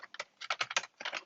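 Fast typing on a Corsair K55 RGB gaming keyboard, a close, crisp burst of about a dozen key presses in quick uneven rhythm, with no talking.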